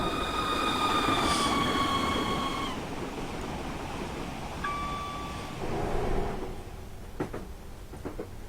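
A Central Trains train passes on the opposite track of the WCML Trent Valley line in Train Simulator 2016. A steady rail rumble runs throughout, with a long horn-like tone, a shorter repeat, and clicking wheel noises near the end.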